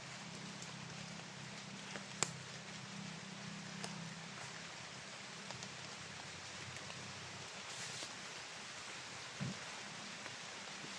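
Steady rain falls in a forest, a soft continuous hiss with occasional sharper drops and taps, fairly faint and even throughout with no voices.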